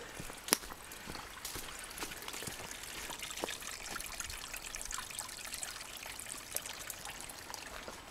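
Water trickles and splashes steadily in a stream running through a gorge, a continuous soft babbling with small drips and bubbles, heard alone and at close to moderate distance.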